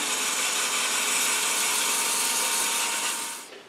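A turned wooden acorn box spins on a lathe while 180-grit sandpaper is pressed against it, giving a continuous dense hiss that holds steady for several seconds and then fades as the sanding stops.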